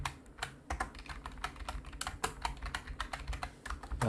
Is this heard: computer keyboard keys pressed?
yes